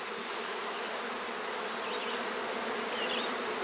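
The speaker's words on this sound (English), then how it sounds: "it's still jam-packed with bees" Honey bees fill a jam-packed hive during a split, giving a dense, continuous buzzing drone that stays close and even throughout, with no voices.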